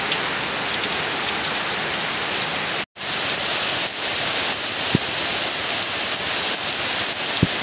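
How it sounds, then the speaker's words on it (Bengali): Heavy rain pours down on a muddy rural road, a loud unbroken hiss of drops on surfaces, with one brief dropout and a couple of sharp ticks from nearby impacts. "প্রচণ্ড পরিমাণে বৃষ্টি হচ্ছে"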